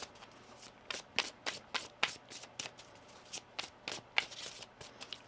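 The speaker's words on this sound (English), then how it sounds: "Let's get one more shuffle here." A deck of tarot cards is shuffled by hand at close range, a quiet run of crisp papery flicks and taps at a steady pace of about three per second, with no voices.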